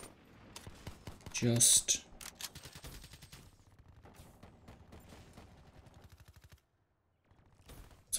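Rapid gunfire in the shooter game Black Ops 3, a loud burst of shots near the start followed by steady clattering fire, with a brief voice at the opening and a short pause before more shots at the end.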